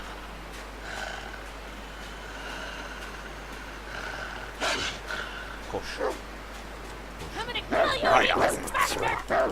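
A wolf growling and attacking in The Long Dark video game: snarls and yelping bursts build toward the end, mixed with someone talking in Turkish over the game sounds.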